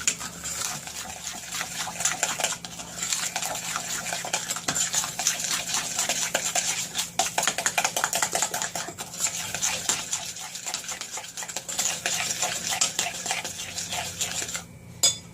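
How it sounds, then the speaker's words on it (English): Keto pecan chocolate cookie batter with an egg being mixed in a bowl, giving steady clinking and scraping of a utensil against the dish, close and continuous with no talking. "Mix all of this together now."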